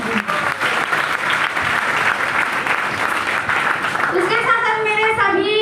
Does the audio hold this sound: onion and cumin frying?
no